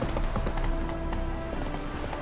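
A horse trots in The Witcher 3, its hooves clip-clopping in a quick, steady rhythm at close range, with a faint sustained tone in the background.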